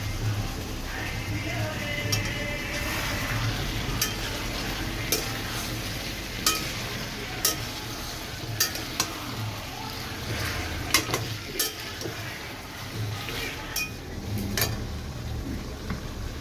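Meat being stirred in a cooking pot with salt, scattered sharp scrapes and clicks of a utensil over a low bubbling sizzle and a rumbling background, moderately quiet and close.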